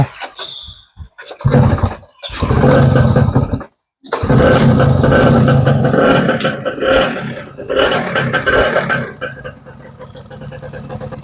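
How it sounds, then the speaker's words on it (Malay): A restored Yamaha Y110SS motorcycle engine, a small two-stroke, fires after brief cranking bursts and then keeps running close by with a loud, uneven idle that revs up and down. "Akhirnya hidup juga enjin ni."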